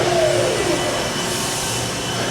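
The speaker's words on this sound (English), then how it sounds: "Stop the spindle." A Mazak CNC machine spindle with a fault winds down, a loud steady whirring roar with a high whine that slides downward in pitch early on, then a sustained broadband hum, no talking.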